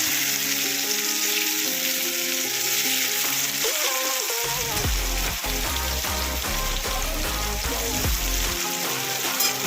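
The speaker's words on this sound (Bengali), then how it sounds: "পেঁয়াজটা একটু ভালোভাবে ভাজতে হবে, একদম পোড়ালেও হবে না" Onions for a Bengali okra and potato curry fry in a pan, with a steady hiss and crackle of hot oil and the repeated scrape of stirring, close and loud with no voices.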